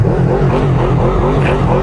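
A Honda VFR800F motorcycle engine revs loudly close by, its pitch rising and falling in a continuous rough roar, with no talk.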